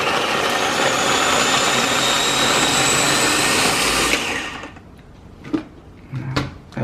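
A food processor whirs loudly with a steady motorized roar for several seconds, then cuts off, leaving a few clunks and handling knocks.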